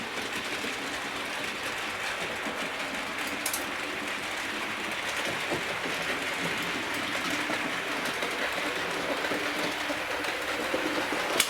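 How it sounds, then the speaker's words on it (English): A Flying Scotsman model locomotive pulling passenger coaches runs round a model railway track, giving a steady, continuous rumbling clatter at an even speed with no talk. "you're going to see the Flying Scotsman come through at the same speed it's going round the track"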